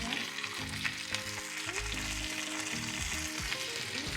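Lamb searing in a hot frying pan, a dense steady sizzle and crackle close up, with faint stirring and scraping sounds and some background music underneath.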